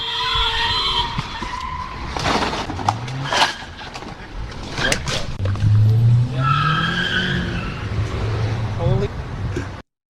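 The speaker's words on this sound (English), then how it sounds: "another hit-and-run happens behind him live while he's doing his stand-up" Car tires squeal and skid in a hit-and-run crash on Hoover Street in Los Angeles, heard live during a street news report: several sharp tonal screeches swell and fade, mixed with crash noise and street sounds, with voices talking over and between them.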